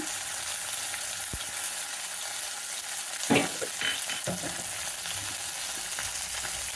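Ginger paste crackles in hot oil with tempering spices, a steady close sizzle with a few scraping stirs of a spatula in the middle, and no talking.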